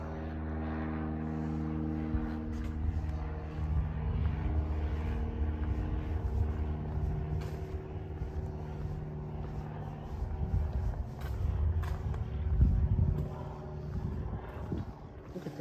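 A small airplane circles overhead, its droning engine hum rising and falling as it moves, heard from a distance over outdoor wind and rustling noise.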